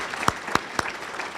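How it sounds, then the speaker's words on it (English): A few sharp hand claps ring out from an audience at a community celebration honoring local heroes, spaced irregularly over a soft background murmur of the room. "let's everybody stand and let's have a round of applause"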